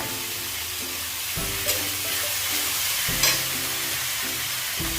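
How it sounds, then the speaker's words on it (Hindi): Chopped vegetables for a jackfruit curry fry in a pan, a constant loud hiss and sizzle with a few spoon knocks and clatters as they are mixed, no voices. "और डालने के बाद इसे अच्छी तरीके से मिक्स कर लेती हूँ।"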